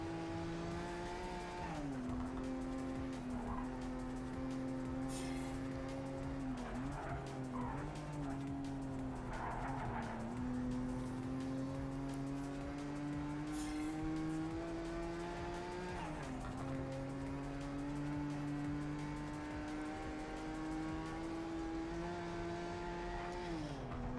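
Race car engine in the Project Cars 3 video game on a lap of the Nordschleife, a loud sustained drone rising and dipping through gear changes with occasional tire squeal, constant throughout.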